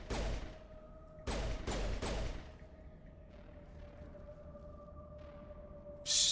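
Pistol fire in the video game Mass Effect: a few sharp bursts of shots close together early on, then quieter scattered blasts with a faint steady tone beneath, and a final loud burst at the end.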